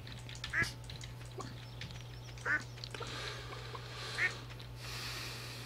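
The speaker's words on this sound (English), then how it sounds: "Come here, chicken." A chicken in the farming video game Stardew Valley gives three short, separate clucking calls spread across a few seconds, moderately loud over a steady low hum.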